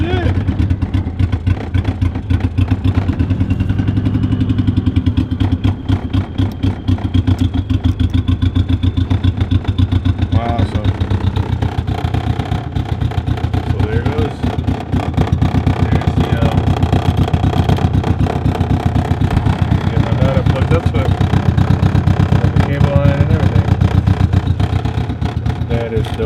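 A Honda engine with a newly chipped ECU idling steadily, a loud close mechanical drone with a faint rising whine, while someone talks excitedly over it.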